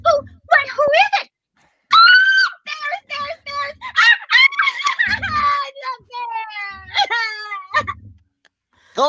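A voice actor performing as Goldilocks screams and wails in a shrill, piercing, childlike voice at a live panel, a series of loud rapid shrieks and sobbing cries with short pauses, close to the microphone.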